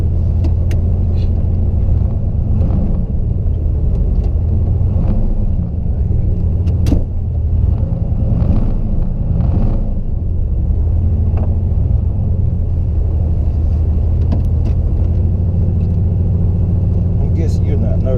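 A turbo Camaro pulls hard in a high gear, its engine rumbling loud and steady from inside the car for the whole stretch, with voices talking over it.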